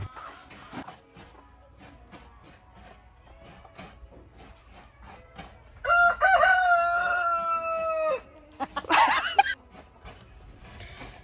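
A rooster crows loudly close by, followed by a second shorter crow, with faint clucking and scattered rustling in the quiet background.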